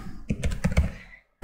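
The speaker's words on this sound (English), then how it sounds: "So here I'm typing use" Fingers type on a computer keyboard while a database query is entered, a quick close run of clicky keystrokes that trails off, ending in a sharp tap.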